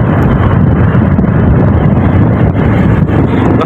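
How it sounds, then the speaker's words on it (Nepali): Strong wind buffets the microphone during a long family ride, a loud, continuous low roar and rumble filling the whole stretch with no voices. "हावा आउँछ हुर हुर हुर हुर"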